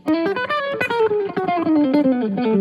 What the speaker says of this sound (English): the sound you're hearing right now is actually the result of the gain knob turned all the way up